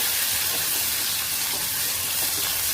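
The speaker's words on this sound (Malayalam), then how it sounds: "നെയ്യോ വെളിച്ചെണ്ണ ഒഴിച്ച് കശുവണ്ടിയും ഉണക്കമുന്തിരിയും ഒന്ന് വറുത്തെടുക്കാം" Cashews and raisins fry in hot ghee or coconut oil in a pan, giving a steady, close, dense sizzle and hiss that carries on without a break and without voices.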